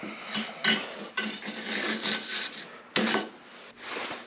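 Wire-brushing flux-core MIG welds to clear flux residue, a steady scratchy rasping in short bursts with brief pauses, close and fairly loud, no talking.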